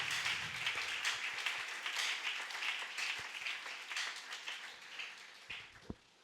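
A church congregation applauds to acclaim the word of the Lord at a Sunday service, with steady, dense clapping that sounds moderately distant and lasts throughout, plus a few louder single claps near the end.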